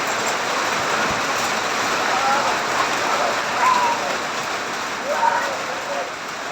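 Heavy rain pours down steadily in a dense, hissing roar in the Philippines, with faint voices calling out now and then beneath it.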